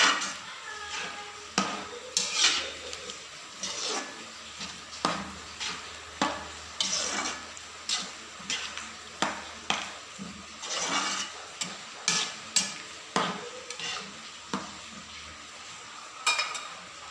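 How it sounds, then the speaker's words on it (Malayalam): Someone stirs a Kerala raw banana curry in a pot after adding grated coconut. Soft spoon scrapes and clinks against the pot come in an irregular rhythm over a faint simmer, close by, with no talk. "കഷ്ണങ്ങളൊക്കെ വെന്ത് അത് തേങ്ങ ചേർത്ത് കൊടുത്തിട്ടൊന്ന് ഇളക്കി കൊടുക്കണമല്ല"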